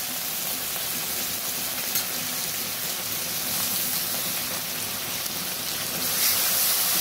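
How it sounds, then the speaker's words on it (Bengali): Ginger-garlic paste with a splash of water fries in a pan, giving a steady, even sizzle that runs throughout without pause or voices. "ভালো করে আদা রসুনটা ভেজে নেব।"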